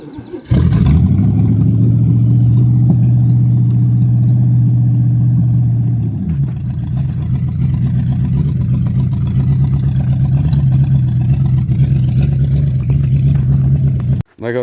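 A 1983 Buick LeSabre with a 307 engine cranks and catches, then idles loudly and steadily up close, with a dip in pitch midway before settling back into a strong, even idle.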